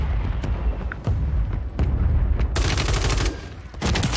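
Sharp gunshots in a video game firefight, with several loud reports spaced apart and a dense rattling volley near the end, including a one-shot sniper rifle among the fire.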